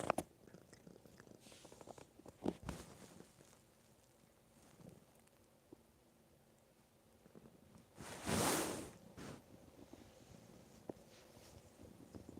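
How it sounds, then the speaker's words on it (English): A deaf cat purrs softly and close, a faint low rumbling interrupted by rustling and small handling noises, with one louder brushing burst near the end. "Get a little purr purr."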